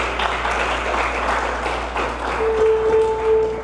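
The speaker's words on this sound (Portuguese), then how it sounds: "Dê um forte aplauso a Jesus." A church congregation applauding, a dense wash of clapping that carries steadily for a few seconds, with a sustained tone rising beneath it toward the end.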